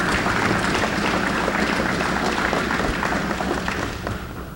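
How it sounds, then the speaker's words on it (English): Applause at a Danbury Police Department memorial service and awards ceremony, welcoming elected city councilmen, a dense steady wash of clapping from a crowd that holds loud throughout and eases slightly at the end. "so let's give them a round of applause to welcome them here"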